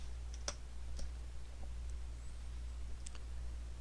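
Light, sparse clicks of keys typed on a computer keyboard, a handful of quiet taps spread over a few seconds against a low steady hum.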